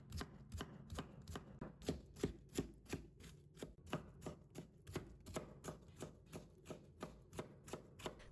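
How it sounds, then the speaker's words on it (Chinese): A knife chops steadily through cucumber on a cutting board, slicing it and then cutting it into strips, with about two even, close, crisp knocks per second and no one talking. "然后将黄瓜给它切成片， 然后切成丝。"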